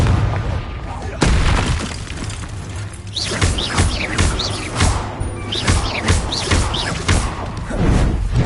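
Repeated Confringo explosion spells from Hogwarts Legacy burst in a string of heavy booms and crashes, loud and close, with game music and voices running underneath.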